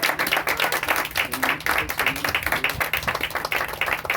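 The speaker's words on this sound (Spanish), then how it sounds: "Vamos a dar un fuerte aplauso a nuestro Rey." Congregation applause during a church service, a loud steady run of many hands clapping with a quick pulsing texture that holds throughout.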